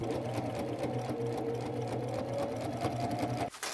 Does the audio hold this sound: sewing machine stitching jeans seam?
yes